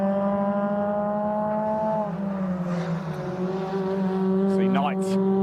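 Ford Fiesta race cars at a BRSCC Fiesta Junior Championship qualifying session thunder around the track with a steady, loud engine drone that shifts pitch as they pass, under continuous commentary.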